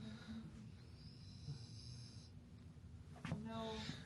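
A pet snores softly at home, a low rasping rhythm of breaths with a louder snort near the end, faint and close.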